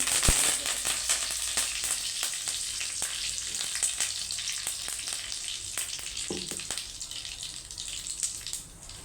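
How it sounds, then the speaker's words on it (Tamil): Mustard seeds crackle and pop in hot oil for a spicy chutney, a dense sizzling hiss with many sharp, irregular pops up close, steady throughout with no voices. "எண்ணெய் நல்லா காஞ்சிருச்சு கடுகு போட்டுக்கலாம் கடுகு நல்லா பொறிஞ்சிருச்சு"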